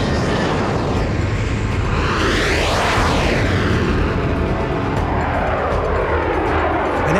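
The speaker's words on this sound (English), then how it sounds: "And then there was a sudden change in the noise, and it was the first Vulcan starting." Loud Avro Vulcan jet bomber engines roar and spool up continuously on starting, a rising whine sweeping through the thunderous rumble for several seconds, close and overpowering.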